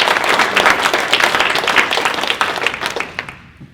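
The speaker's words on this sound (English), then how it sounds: "So if y'all could give me a round of applause for all of them." Lively audience applause at a Comal County conservation panel, a dense burst of clapping that gradually tapers and fades out near the end.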